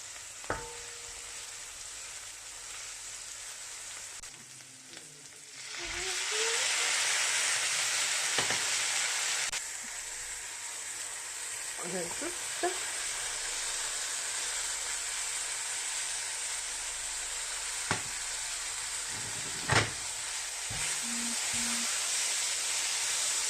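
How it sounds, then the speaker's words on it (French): A spice mixture sizzles as it toasts in a pan for a green plantain and turkey stew. A steady, close frying hiss starts partway in and continues with occasional stirring clicks. "une fois notre mélange d'épices bien grillé"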